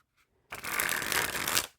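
Bicycle Red Party Cup playing cards being shuffled, a brief faint touch followed by a loud, dense, continuous riffle of cards lasting about a second, close to the ear with no voices.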